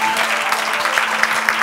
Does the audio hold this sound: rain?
no